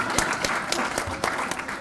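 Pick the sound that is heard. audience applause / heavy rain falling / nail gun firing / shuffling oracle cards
audience applause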